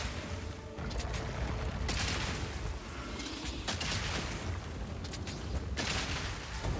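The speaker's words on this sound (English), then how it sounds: "it's basically just big explosion. Sometimes goes boom." Heavy explosions from an explosive-shot build in a video game roll in one after another, dense booming blasts with sharp cracks layered over a constant loud rumble, no voices.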